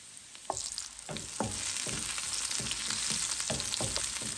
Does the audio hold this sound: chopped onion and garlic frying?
yes